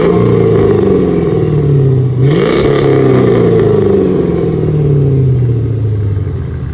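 Mercedes E55 AMG wagon pulls hard under acceleration, loud close engine note rising through the revs, with a quick gear change midway before the pitch climbs again.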